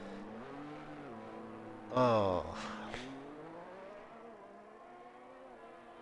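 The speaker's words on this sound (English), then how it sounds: "They got the Ferrari engine down perfectly in this game. It's just a great sound." Ferrari Formula 1 engine in a racing video game at Qatar, a high revving whine rising through gears with a sharp loud surge midway, then settling into a steady drone; someone exclaims briefly.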